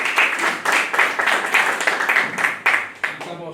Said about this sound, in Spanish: Aplausos para el señor.